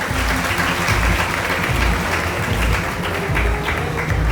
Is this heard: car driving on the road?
no